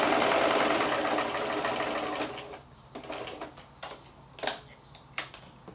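Sewing machine stitching a felt notepad cover: a steady close whirring run of stitching for about two seconds that slows and stops, followed by scattered clicks and soft handling knocks.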